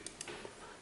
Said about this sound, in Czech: najedeme na odpovídající místo a klikneme levým tlačítkem myši.